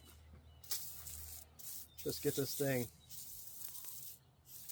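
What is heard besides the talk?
spraying cleaner onto a supercharger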